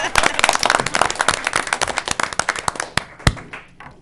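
An audience at a school board meeting bursts into applause, a dense rush of close hand claps that thins out into a few scattered claps before fading.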